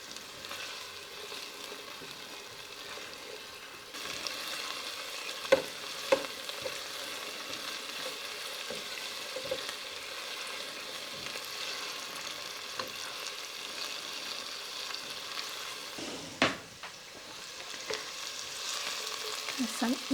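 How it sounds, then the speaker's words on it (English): Vegetables sauté in a pan for beef stroganoff soup, a soft steady sizzle and hiss with occasional light stirring scrapes and clinks, quiet and close, with no voices. "I'm going to saute this for about 5 minutes or until they get translucent."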